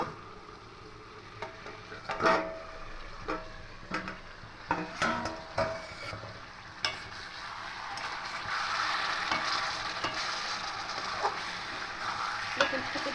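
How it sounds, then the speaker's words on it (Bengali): Chicken and potatoes stir-fried in a pan on a home stove, with a soft steady sizzle and repeated scraping, clinking stirs of a spatula, fairly close and alone. "এবার চিকেনটা খুব ভালো করে কষা হয়ে গেছে"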